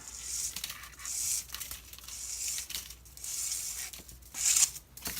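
Adhesive tape pulled and torn from a roll while fixing a 3D-printed SMD tape reel, a series of close, crinkly rips and crackling strips in uneven bursts over a quiet room.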